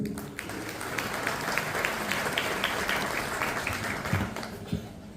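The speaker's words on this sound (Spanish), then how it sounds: "Fuerte los aplausos." Audience at a Guaraní language and culture institute anniversary event applauding, a steady crowd of clapping with a few sharper nearby claps and faint voices underneath toward the end.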